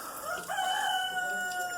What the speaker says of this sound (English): and the rooster calling out.